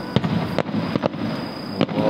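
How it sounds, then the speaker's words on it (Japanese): Fireworks launched during a holiday display, with several sharp bursts and cracks spaced irregularly over a continuous rumbling backdrop, fairly loud and close. "シルバーウィークやって花火が上がってます。"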